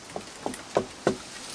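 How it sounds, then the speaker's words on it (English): Four knuckle knocks on wood, spaced evenly and growing slightly louder, close and dry against a quiet background. "Knock on wood."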